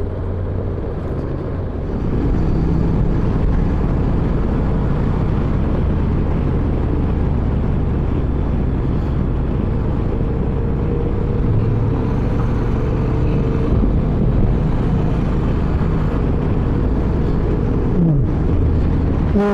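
An automatic car cruises along a road in Patagonia with no engine braking, giving a steady, loud engine and road rumble with wind noise that holds level throughout. Nobody speaks.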